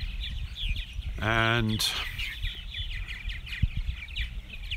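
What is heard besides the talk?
purple martins calling in the evening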